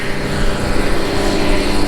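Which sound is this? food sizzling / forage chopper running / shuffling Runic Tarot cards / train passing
forage chopper running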